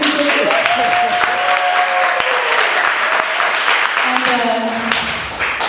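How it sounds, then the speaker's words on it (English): An audience at a dance Q&A session claps loudly and steadily, with a few voices and a whoop carrying over the applause. "you can clap out like that"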